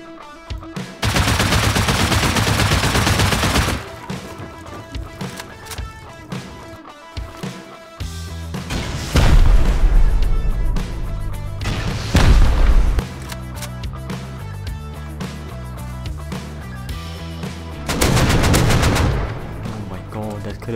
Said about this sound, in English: I'm gonna blow the walls down with explosive ammo and then just stop pummeling